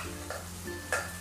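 Cooked whole red lentils drop into a pan of frying spices, giving a brief soft splash and stir over a steady sizzle, with a light clink of utensils.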